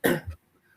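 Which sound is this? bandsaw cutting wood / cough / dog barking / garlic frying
cough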